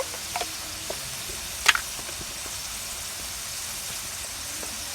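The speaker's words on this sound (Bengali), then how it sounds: "ভালোভাবে নাড়া দিচ্ছে" Turmeric and chili powder fry in a pan as they are stirred, giving a soft continuous sizzle with a few faint scraping taps and one brief clink near the middle.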